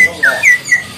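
A cucak songbird gives three short, bright, upward-sliding whistled notes in quick succession, close and loud.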